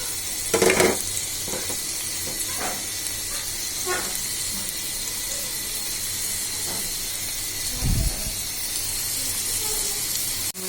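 Whole spices fry in about two tablespoons of hot oil in a wok and are stirred, giving a steady close hiss and sizzle broken by a few scraping stir strokes, with a slightly louder burst near the end.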